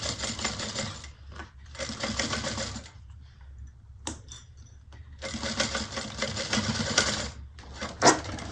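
A sewing machine bastes fabric pieces in place, running in several bursts of fast, steady stitching separated by short pauses, close and moderately loud with no talking.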